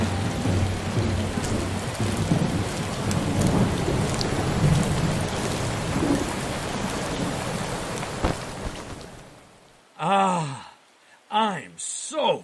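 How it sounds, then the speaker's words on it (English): Steady rain with rolling thunder rumbles as a staged storm effect in a radio drama, loud and continuous for about nine seconds before cutting out, followed by voices speaking. "That rain came out of nowhere."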